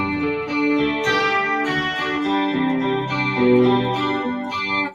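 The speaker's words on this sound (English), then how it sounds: "That's going to sound, let me get my effects unit here." Electric guitar played through an effects unit with chorus, strumming the sustained, shimmering intro chords of a song, full and continuous for the whole stretch with no talking.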